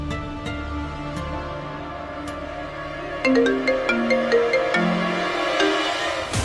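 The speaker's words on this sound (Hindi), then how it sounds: "तभी गौतम के फोन पर एक कॉल आया।" A mobile phone rings with an incoming call, its melodic ringtone sounding as a bright run of stepped notes that starts partway through over a quieter musical backdrop in a Hindi audio drama.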